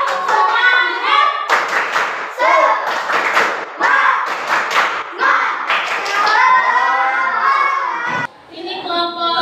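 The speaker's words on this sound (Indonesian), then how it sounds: "Tepuk semangat dulu dong." A classroom group of teachers and students does a rhythmic spirit clap, sharp claps and thumps in a patterned beat, loud and close, mixed with voices chanting and shouting along.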